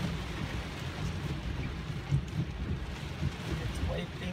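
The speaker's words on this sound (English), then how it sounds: "how are the Model X wipers in torrential rainfall?" Torrential rain drums continuously on a Tesla Model X during a downpour, a dense low roar heard from inside the car, with someone talking over it.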